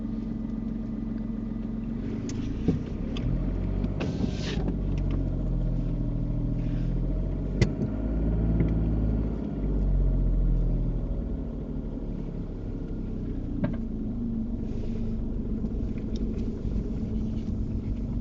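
A car drives along a road during a UK mock driving test, its engine a steady low rumble, with a short rise in revs partway through and small cabin knocks throughout.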